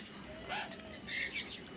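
Hand-tame pet birds give a few faint, short chirps against a low background hum, with a soft flutter or shuffle between the calls.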